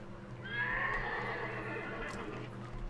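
A horse whinnies loudly in the video game Hunt: Showdown, one drawn-out neigh over steady background ambience with no talk.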